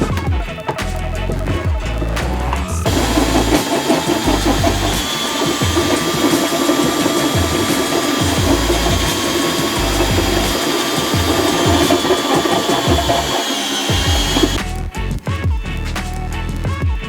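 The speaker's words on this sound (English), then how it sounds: "I want to go ahead and drill the holes for the turn signals" A power drill runs in one long continuous whir lasting over ten seconds, drilling holes for turn signals on a Jeep, close by, with clunks and handling noise before and after.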